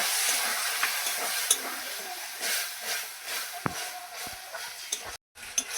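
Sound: snails and spice masala sizzling and being stirred in a pan

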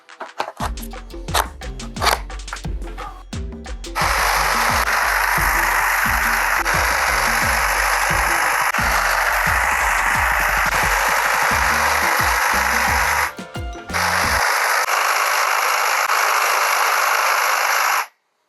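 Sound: TTG 8A610 cordless hedge trimmer running

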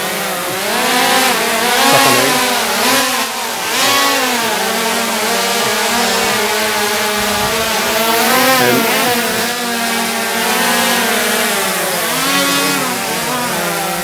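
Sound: drone propellers spinning

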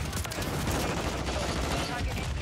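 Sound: SPAS-12 shotgun firing in Call of Duty zombies video game

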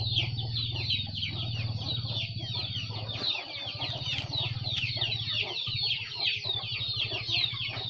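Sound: Bangkok chickens clucking at feeding

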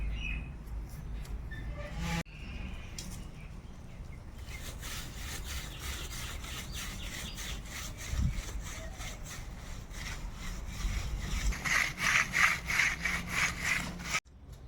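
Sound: rubbing wild mushrooms with sand to clean them

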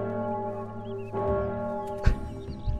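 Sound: church bell tolling in Townsmen VR video game

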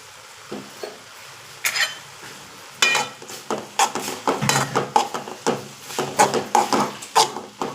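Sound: stirring ground coconut paste into mathura kizhangu leaf stir-fry

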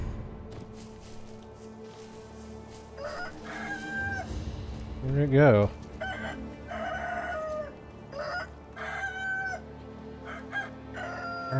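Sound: chicken clucking and crowing in video game Sekiro

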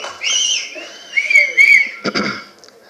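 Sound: audience whistling and clapping at a film launch event

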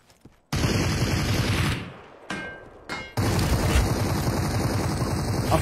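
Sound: gunfire in GTA roleplay video game

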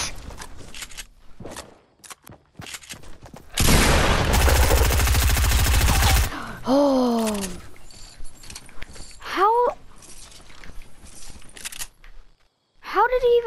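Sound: gunshots in the video game Fortnite

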